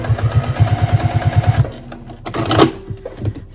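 Sewing machine stitching rickrack trim onto quilt binding, running in a fast, steady burst of close, even stitch pulses that stops after about a second and a half, followed by softer handling noises.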